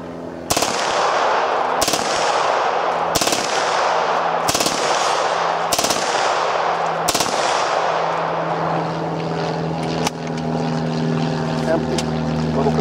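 An AC-Unity MP-5 airsoft gun fires several loud full-auto bursts in quick succession, sharp rattling volleys spaced about a second apart over a steady background hum, close to the listener.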